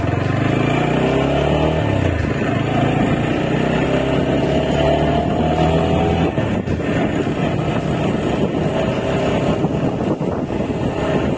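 A TVS Apache RTR 160 4V motorcycle engine running steadily as the bike rides off, a loud continuous drone with a shift in pitch partway through and no talk over it.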